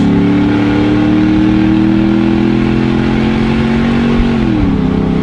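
A straight-piped Ford Mustang engine drones loud and close in a steady, raw roar as the car accelerates, the pitch easing near the end, with no voices over it.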